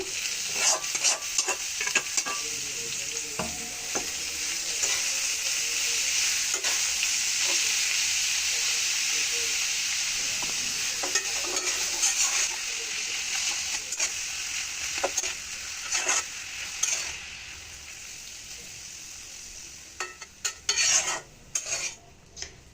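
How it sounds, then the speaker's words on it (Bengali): Buitha greens tipped into reddening onion and garlic in a frying pan and stirred, a steady bright sizzle with repeated spatula scrapes and clinks on the pan, busier toward the end, close and without voices. "এখন আমি শাকটা ঢেলে দিচ্ছি"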